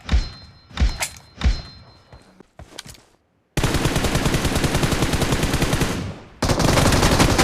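Gunfire in PUBG Mobile: a few heavy single shots with thuds, a short pause, then a long sustained burst of rapid automatic fire, a brief break and another loud burst, close and loud with no talk.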